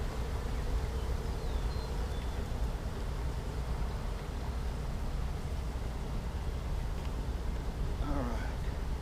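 Honey bees buzz steadily and loudly throughout a hive inspection in May, a dense continuous drone close by with faint outdoor sounds underneath.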